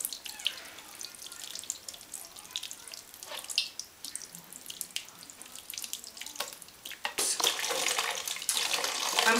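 Water streams and splashes over a model mountain built for an erosion project, a steady rushing pour that swells louder and fuller toward the end, heard close up with no talking.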